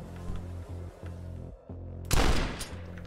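Rapid gunfire in the first-person shooter game Dusk: repeated shots over a low droning background, ending in a louder burst of blasts.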